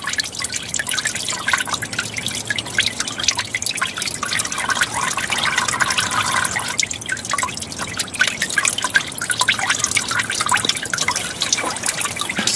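CVT transmission oil from a 2011 Nissan Altima draining into a pan outdoors, a continuous close pattering and trickling stream with wind noise and no voices.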